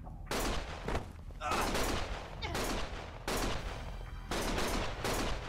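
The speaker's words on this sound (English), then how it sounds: "Stop shooting!" Gunfire in the video game Lost Judgment: several bursts of rapid shots in a row, separated by short gaps, sustained and fairly close throughout the scene.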